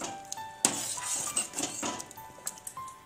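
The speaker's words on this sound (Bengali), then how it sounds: "কাজু কিশমিশ বাটা দিয়ে ভালোভাবে পায়েসটিকে নাড়িয়ে নিতে হবে।" Dalia payesh, a broken-wheat pudding mixed with ground cashew and raisin paste, stirred in a pot, giving a series of light metallic clinks and scrapes of a spoon against the pot at an uneven pace, close by with no talking.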